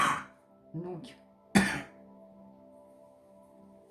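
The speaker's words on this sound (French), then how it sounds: "Attendez, je vais tousser, je suis désolée." A woman coughs sharply, clears her throat, then lets out another harsh cough, close and fairly faint, with a brief spoken word in between and a quiet hum afterward.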